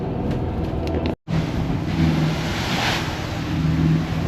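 Ocean waves wash around an old 70ft yacht running offshore through whitecapped Gulf Stream seas. A steady rushing of water sits over a low engine drone, broken by one brief dropout.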